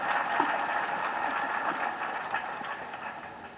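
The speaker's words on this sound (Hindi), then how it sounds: "ताली बजाओ सब।" A crowd at the Ballia pilgrimage claps together in a steady, even patter that holds throughout and fades slightly at the end.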